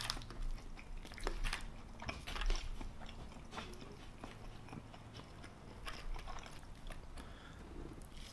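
Bacon mac and cheese being eaten up close, with soft, irregular chewing and biting sounds, faint and moist, repeating through the stretch with no talking.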